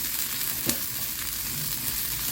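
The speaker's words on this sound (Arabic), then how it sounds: "اهو هقلي البصله كده" Chopped onion frying in hot oil for a minced-meat phyllo dish gives a constant close hiss and sizzle, with one small clink partway through and no voices.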